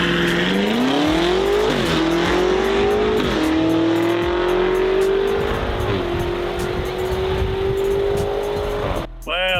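An 800 hp BMW M5 races a Porsche 911 Turbo S, loud engines revving hard through rising gear pulls with shift dips and a rushing wind roar, ending in a brief tire squeal.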